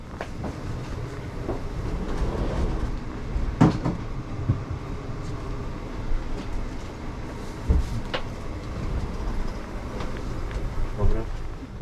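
A ČD InterCity train from Warsaw to Prague rolls along with a steady low rumble and broadband rattle, marked by occasional clunks and bumps of the carriage, heard from inside at close range.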